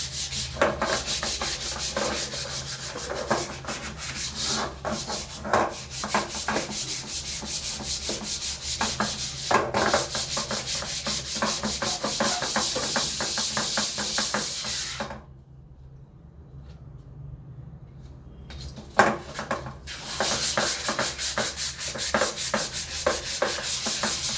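A vadachati pan's back side is scrubbed hard, producing a fast, continuous rasping scour close to the ear that stops briefly for a few seconds, then resumes with a clunk.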